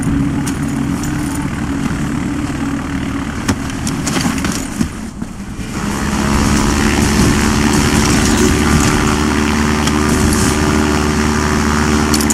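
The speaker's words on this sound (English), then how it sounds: "the plane that's about to take off" Propeller plane engine idling and revving before takeoff in the video game Far Cry 4, a loud continuous droning rumble that swells and grows heavier partway through, with no voices.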